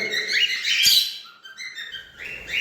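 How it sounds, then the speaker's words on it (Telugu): Cockatiels sing and chirp in the morning, a busy run of bright whistled tweets and trills, fairly close and steady, with a short sharp burst midway and no talking. "అన్ని కాక్టైల్ బర్డ్స్ మంచిగా సౌండ్ పాడుతూ ఉంటాయి"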